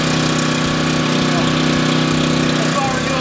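A steady, low engine rumble runs throughout, close and continuous with a rhythmic pulsing beneath it.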